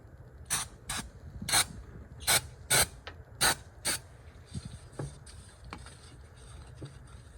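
Throttle body cleaner sprays in about eight short, sharp hissing bursts, close and spaced irregularly, during engine work on a 2002 Mitsubishi Galant, followed by faint handling noises.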